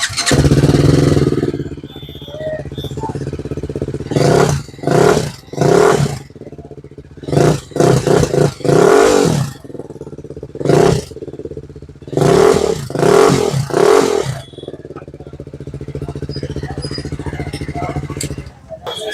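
TVS Apache RR 310 motorcycle fitted with a full-system exhaust and a dB killer, idling with a low rumble and then blipped in a series of sharp, loud revs that rise and drop back quickly, heard up close.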